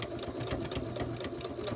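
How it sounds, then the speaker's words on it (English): A sewing machine stitching along the edge of a quilt block, a fast, steady mechanical whir and needle chatter running close and continuous for under two seconds, with no speech. "I'm just going to line up right there at the edge of my quilt, or my block. And I'm going to start sewing"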